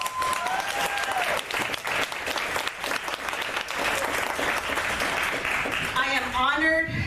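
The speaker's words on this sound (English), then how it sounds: "Please give them a round of applause." An audience applauds at a Shero award presentation, with dense, steady clapping that carries through the whole clip. A voice speaks over the end.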